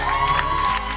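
A short burst of crowd noise, cheering and shouting with some clapping for a rapper's performance, loud and steady throughout.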